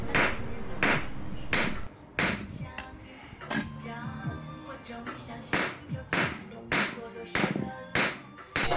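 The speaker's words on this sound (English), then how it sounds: "here I am kind of flattening out the side so I can have the two pieces right together." Repeated sharp metallic hammer blows flattening metal pieces for crucible tongs, irregularly spaced and close, with ringing clanks between strikes.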